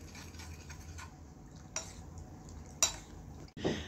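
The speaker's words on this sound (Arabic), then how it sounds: "شوفوا البنات نخلط كامل المكونات." Ingredients for Algerian almond makrout dough being mixed in a bowl, with soft, quiet stirring and scraping and a few sharper clinks of a utensil against the bowl near the end.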